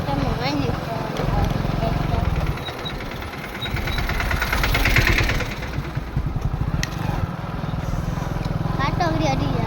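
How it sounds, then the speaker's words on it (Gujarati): A tractor approaching, its engine clatter and low rumble building to a peak at mid-clip before easing, heard beneath steady conversation. "તો આવે છે ટ્રેક્ટર એક ટ્રેક્ટર આવે છે"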